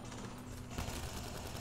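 A weak starter gun fires in a shooter video game, a rapid run of close, loud shots in a quick burst against steady game noise.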